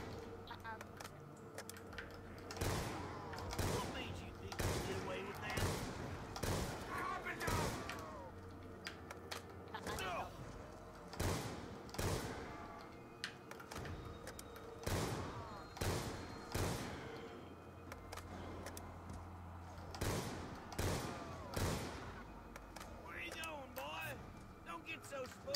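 Gunfire from a Call of Duty Black Ops 2 zombies match on the Buried map, repeated sharp shots in short bursts spread across the clip, mixed with game sound and someone talking over it.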